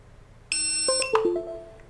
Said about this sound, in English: You hear the beep on the computer and the beep here on the controller